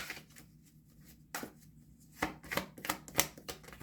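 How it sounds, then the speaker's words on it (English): Tarot cards are shuffled and riffled in quick bursts, soft papery flutters building to brisker snaps, close up and quiet with no talking. "Let's get a card for shuffle."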